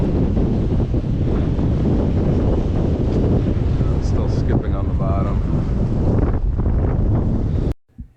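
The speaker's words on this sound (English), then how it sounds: "I have my back to the wind there, so hard to tell how hard it's blowing" Strong wind roars and buffets the microphone in a small, tightly enclosed bay, a loud, continuous broadband rush that holds steady for nearly the whole stretch before cutting off abruptly near the end.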